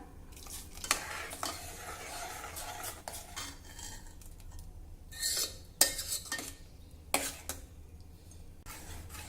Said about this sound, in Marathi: चमच्याने या प्रकारे थोडं मॅश करून घ्या घोटून घ्या